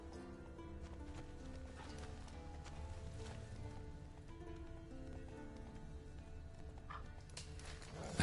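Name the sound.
horse galloping in a video game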